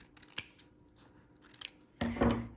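Scissors snip through folded paper for a house weaving craft, producing a few separate crisp cuts with short pauses between them, close and fairly quiet, ending in a longer, louder stroke.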